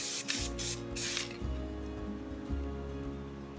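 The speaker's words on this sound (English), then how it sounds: "we'll just put a few light coats of the clear spray" Three quick hissing bursts from a can of clear coat spray onto a planter, close by, followed by a low steady hum.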